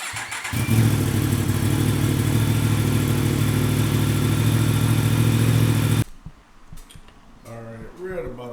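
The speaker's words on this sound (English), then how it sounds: "so you do gotta warm up the bike. We'll warm it up to maybe 170 degrees." A 2021 Yamaha MT-10 motorcycle engine idles steadily and loud, close by, for about six seconds while warming up, then cuts out, leaving quieter handling noises.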